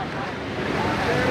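Heavy floodwater after torrential rain surges and roars steadily through flooded streets and near a bridge in Andaraí, Bahia, a loud continuous wash of broadband rushing noise, close to the microphone with wind buffeting.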